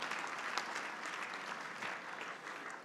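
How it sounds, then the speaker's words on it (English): Sustained audience applause at a plenary luncheon, a dense, even patter of many hands clapping throughout with no break, moderately loud and filling the room. "We should give an extra special round of applause to Kathy"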